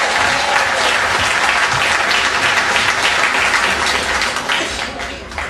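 A crowd at a municipal election meeting in Guadeloupe breaks into sustained, loud applause, dense clapping filling the room steadily before tapering slightly at the end.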